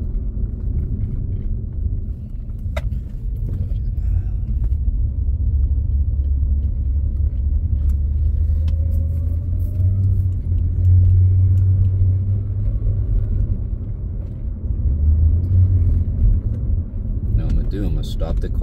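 A 2004 Acura TL with an automatic transmission drives along with a steady low engine rumble inside the cabin, the drone stepping up and settling as gears change smoothly.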